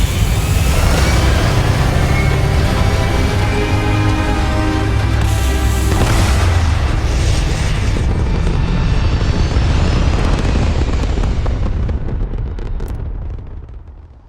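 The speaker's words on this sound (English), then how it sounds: "All thrusters firing." Spaceship thrusters firing in Starfield during a launch to orbit, a loud, sustained roaring rumble that holds steady before tapering off at the end, with no talking.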